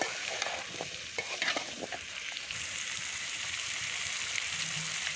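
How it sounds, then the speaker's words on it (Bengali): Drumstick pieces and potatoes stirred into spiced paste in a pan, with a spoon scraping and clicking through a soft continuous sizzle at close range, no voices. "এখন আমি নাজনে ডাঁটা আর আলুটা দিয়ে দিলাম এখন আমি সুন্দর করে কষাতে থাকবো"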